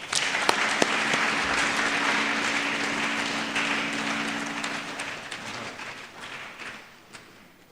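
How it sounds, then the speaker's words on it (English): A memorial lecture audience breaks into loud, dense applause that swells early and then gradually thins and fades, with a few scattered claps lingering near the end. "And I want to ask again another round of applause."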